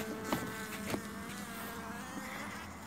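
Hungry honeybees buzz around a hive being fed syrup in an area of heavy agricultural spraying, a steady close drone with a few louder passes, no talk.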